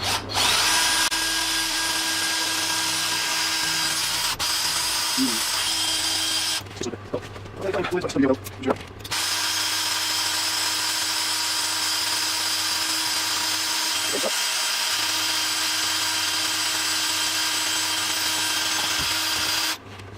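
A power drill bores a small 2.5 mm hole in a Yamaha TT600 cafe racer frame loop, whining loudly and steadily for long stretches with a short pause midway and brief handling noises.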